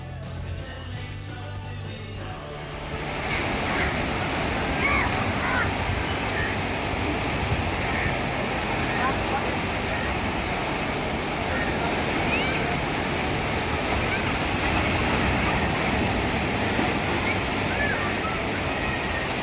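Ocean surf at Lighthouse Beach, Kovalam, Kerala, a broad, steady wash of waves rising after a brief quieter moment and continuing loud and constant, with faint voices now and then.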